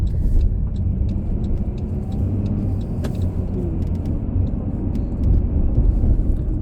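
A minivan drives along a cleared winter road in Montreal with icy edges, a steady low engine and tyre rumble heard from inside the cabin, with small clicks and rattles over it.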